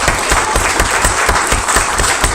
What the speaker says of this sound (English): I'd like for everybody to give a round of applause to these representatives come up.